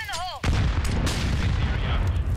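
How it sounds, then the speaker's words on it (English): Grenades in Counter-Strike burst through a smoke screen: a brief warbling tone gives way to a sudden loud blast, followed by further sharp explosions and a rumbling tail. "And a barrage of grenades come flying through the smoke screen."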